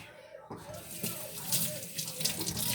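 Liquid pouring from a container through a kitchen strainer, a steady splashing trickle that runs close and continuous, with a faint voice underneath.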